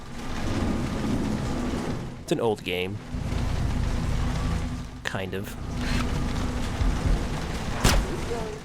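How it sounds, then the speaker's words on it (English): Steady heavy rain hisses throughout a Splinter Cell video game scene, broken by a few sharp thunder cracks and rumbles, while someone talks over it. "Look at that rain. Some pretty good rain."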